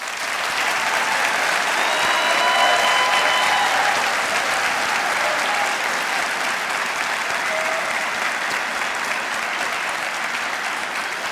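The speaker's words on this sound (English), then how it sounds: "I'd like you to give them a round of applause." Sustained applause from a large crowd at a football banquet, loud and steady throughout, gradually tapering slightly toward the end.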